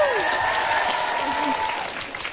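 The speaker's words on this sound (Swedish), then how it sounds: "En applåd!" A magic show audience applauds as the magician's assistant Ida comes onto the stage, a steady wash of clapping with voices over it, fading slightly at the end.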